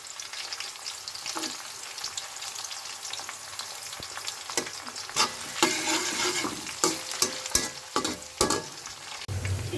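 Onion and green chili frying in hot oil for homemade noodles, a steady crackling sizzle with scraping stir strokes and sharp utensil knocks growing busier toward the end, close and fairly loud, no voices.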